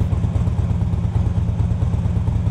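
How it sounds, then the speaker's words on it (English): A motorcycle fitted with a ThunderMax throttle-by-wire system idles steadily, a loud, close, low pulsing engine rhythm with no revving and no voices. "Start the engine and let the engine idle on its own for 10 to 15 seconds"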